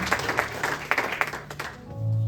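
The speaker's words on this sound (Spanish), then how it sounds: "¿Puede darle un aplauso al Señor?" Church congregation applauding during a Spanish-language service, a brief spell of scattered clapping from a moderately near crowd that fades into a low sustained hum.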